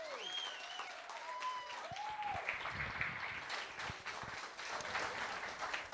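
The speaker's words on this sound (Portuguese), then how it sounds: "uma salva de palmas para os nossos astros." An audience at a hypnosis comedy show in a bar applauds the volunteers on stage, with dense, sustained clapping and crowd noise. Whistle-like tones and voices rise above it at the start.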